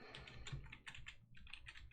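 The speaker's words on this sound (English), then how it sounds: "I was typing." Rapid typing on a computer keyboard during a live board-game session, a steady run of light clicking keystrokes close to the microphone with no talking.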